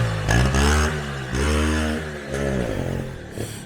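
A used motorcycle engine runs and revs up and down in several rising and falling pulls, close and moderately loud, with a rough mechanical buzz.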